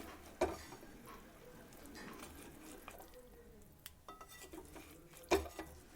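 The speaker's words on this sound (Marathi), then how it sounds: "मधामधातून चमचने परतून घ्यायचं आहे, त्यामुळे मसाला बुडाला लागणार नाही." A spoon stirs stuffed bitter gourds in a pan over medium gas, producing faint scraping with a few sharper metallic clinks and taps spaced through the quiet stretch.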